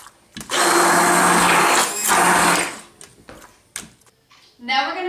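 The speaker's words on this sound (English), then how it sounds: "puree the pumpkin with an immersion blender" An immersion blender purees cooked pumpkin in a steady, loud whirring burst that cuts out, restarts, then stops, followed by clatter and a voice speaking.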